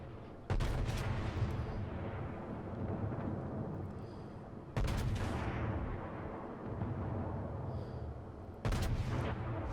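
Colorado battleship main guns firing shells in the World of Warships game: three deep, booming salvos spaced about four seconds apart, each a sharp crack swelling into a long rolling rumble.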